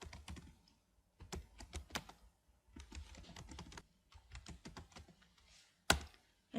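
Keys clatter on a computer keyboard while text is entered into a presentation slide, fast irregular bursts of close taps with short pauses between runs, ending in a sharper louder keystroke.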